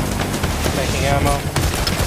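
Gunfire in the heist video game Payday The Heist, a dense, continuous spray of shots from a busy firefight, heard under and between a player's talk.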